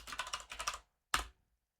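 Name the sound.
typing a passphrase on a computer keyboard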